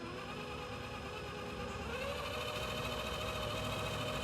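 Traxxas Ultimate Hauler Exo RC truck in low gear, carrying a load of about 6.5 pounds and crawling through sand, with a faint steady whirring motor drone that rises slightly in pitch partway through.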